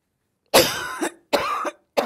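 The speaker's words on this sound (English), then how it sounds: "I'm going to have to cough." An elderly woman coughs three times in quick bursts, close and fairly loud, with short silent pauses between them.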